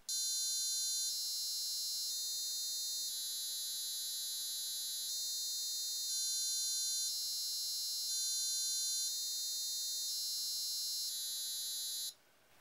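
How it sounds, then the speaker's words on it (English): An electronic buzzer plays the quarter-hour chime melody of a famous London tower clock, slow and steady, each tone held about a second, loud and close, ending abruptly. "the buzzer plays the melody of a well-known tower clock in London every quarter of an hour"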